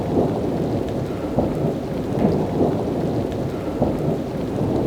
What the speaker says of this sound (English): Okay guys, we have a hailstorm.